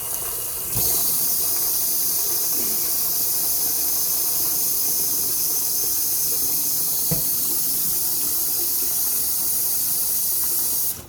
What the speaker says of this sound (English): whenever you're boiling it, it won't fizzle over